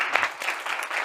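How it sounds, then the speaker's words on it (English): A brief round of applause from a meeting audience, steady clapping from a modest crowd heard for about a second, fairly quiet and without voices on top. "Give him a round of applause."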